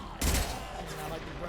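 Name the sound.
burst-fire gunshots in a video game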